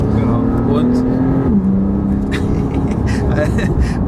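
A Porsche sports car of about 450 horsepower drives on a race track, its engine a loud close drone that holds, then drops in pitch as it shifts, with a voice speaking over it.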